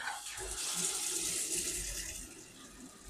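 Hot water runs steadily from a tap into a stainless steel media tumbler drum, a continuous broad rushing splash heard close up with no talking.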